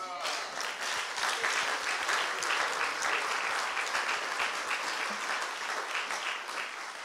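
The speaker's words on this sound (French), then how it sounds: "Tant qu'à faire, si tu veux acclamer, acclame bien." Sustained audience applause fills the room at a talk show, a dense, even wash of clapping that holds steady throughout with no voices rising above it.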